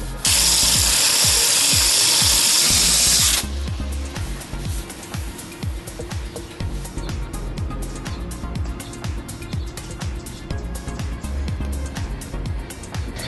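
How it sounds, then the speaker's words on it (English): A power grinder works on a damaged RV body panel, first a loud steady whine, then rough, pulsing grinding with repeated scraping strokes up close. "So then just keep grinding it until it matches."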